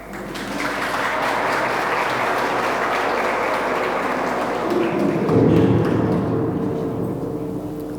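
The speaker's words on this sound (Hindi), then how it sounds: "तालियां बजती रहनी चाहिए." Sustained loud applause from an audience at a stage event as a guest is invited up, dense and continuous throughout, with low thumps near the end.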